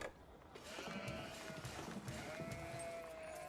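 Sheep in an Age of Empires 4 match bleat faintly under a dense layer of game ambience and music, with a few soft, drawn-out calls in the background.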